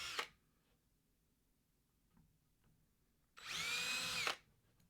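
A power drill bores through a wooden ballista part: a short whir at the start, a quiet pause with faint handling noises, then a loud second burst of about a second with the motor's steady whine.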